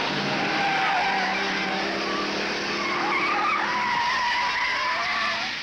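Chargers and Torana XU1 race cars at the 1971 Bathurst race scream past in a dense, sustained roar, with tyre squeal and engine whine shifting pitch as they sweep through a corner.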